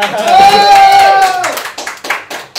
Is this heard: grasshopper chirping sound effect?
no